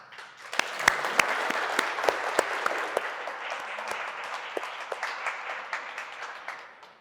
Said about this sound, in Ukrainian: Зустрічаємо наступного учасника оваціями